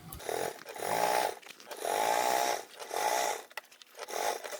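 A sewing machine top stitching a duffle bag, running in several bursts of fast motor whirring with short pauses between, close and clear.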